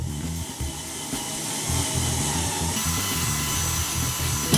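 A drill boring an LED hole through the metal enclosure of a Dunlop GCB-95 wah pedal, going slowly, a steady grinding whine that holds on and rises a little louder partway through.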